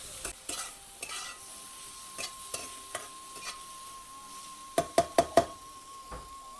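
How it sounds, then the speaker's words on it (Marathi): Spoon stirring vegetables and fresh coriander in a pan of a rare Ayurvedic tuber dish, sparse scrapes then a quick run of four sharp knocks against the pan, with a faint steady hum beneath. "आता हे सगळं चांगलं मिक्स करून घ्यायचं."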